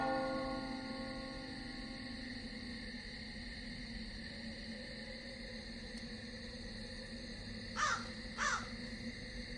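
Loud game ambience from Vampire The Masquerade: Redemption holds steady tones under a noisy bed, with two sharp bird calls, crow-like caws, standing out near the end.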